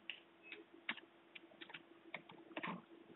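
Typing on a computer keyboard, a quiet irregular run of light key clicks, some in quick bursts and others spaced apart, close and faint.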